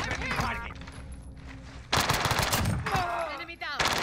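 Rapid bursts of automatic gunfire from an online shooter video game in close, loud volleys, with game effects and voices mixed in between the bursts.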